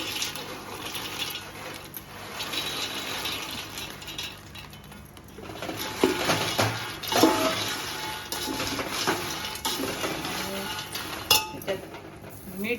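Makhana (fox nuts) tipped into a pan after roasting with hing and turmeric for chivda, then stirred, giving light clinks and rattling scrapes against the pan, moderately close.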